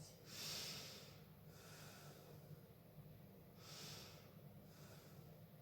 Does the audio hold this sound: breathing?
yes